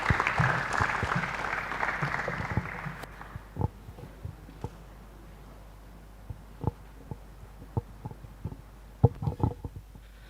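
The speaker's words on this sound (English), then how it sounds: "I think you can welcome him with a round of applause" An audience claps to welcome a guest of honor at an International Day of Mathematics event at UMaT, Tarkwa, Ghana; the applause is fairly close and fades out after about three seconds, followed by scattered thumps and soft room noise.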